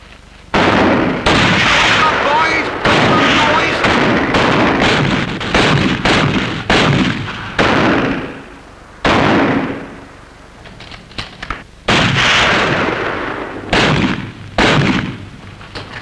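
Loud volleys of gunfire from a 1959 British naval comedy film battle scene, repeated bursts of cracking shots and booms with short pauses between, shouted voices mixed in.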